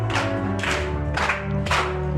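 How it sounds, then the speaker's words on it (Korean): A church congregation claps in rhythm while singing a hymn with organ or keyboard accompaniment, the claps loud and steady throughout. "박수 치시면서 부르십시다."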